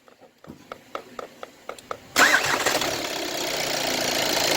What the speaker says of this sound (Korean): 시동 걸어!